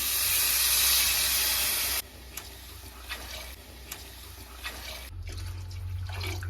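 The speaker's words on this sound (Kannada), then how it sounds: "ಇದೇ ಗ್ಲಾಸಿಂದ ನಾನು 4 ಗ್ಲಾಸ್ ಅಷ್ಟು ನೀರನ್ನ ಹಾಕೊಳ್ತೀನಿ" Water pours steadily into a cooking pot for egg biryani as a loud continuous rush that stops abruptly, followed by quieter bubbling and a few small clinks.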